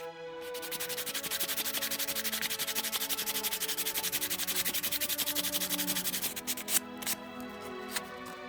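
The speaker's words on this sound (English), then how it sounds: "Filing and sanding to give a smooth finish." A wooden carved cross is filed and sanded with rapid, even back-and-forth rasping strokes for several seconds, which then slow and break into a few scattered scrapes and taps near the end.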